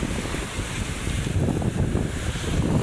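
Manila Bay waves surge and wash up the shore in gusty, churning low rumbles mixed with wind buffeting the microphone, moderately close and without talk.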